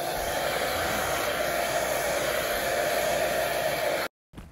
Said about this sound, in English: Then I'm bringing in my blow dryer for some reinforcement.